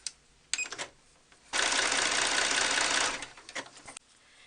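A sewing machine stitching a zigzag-like stretch stitch on fabric for doll leggings: a brief whirring burst, short pause, then a longer steady run of rapid stitching for about a second and a half, close and clear.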